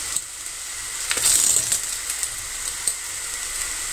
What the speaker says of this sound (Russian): жарятся они на большом огне